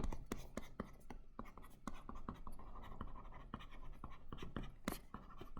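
Marker or chalk strokes on a board during an electronics lecture on MOSFET noise, a run of sharp scratchy taps and squeaks at an irregular writing rhythm, close and fairly quiet, with faint breathing between strokes.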